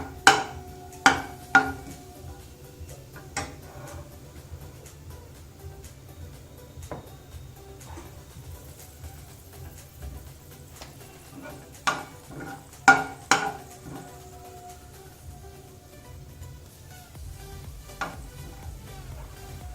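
Soft sizzling of cumin seeds frying in a pan with occasional sharp clinks of a spoon stirring against metal, steady low frying hiss throughout, no talking.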